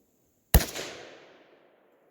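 A single sharp report from a Savage 93G .22 Magnum rifle, loud and close, with a quick decaying tail lasting about a second and no talk around it.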